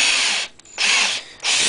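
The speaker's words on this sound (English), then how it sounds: "We're just going to line up our drill" A power drill bores a hole through a Kydex knife sheath, the high whine running in two loud bursts with short pauses between them, close up and with no talk.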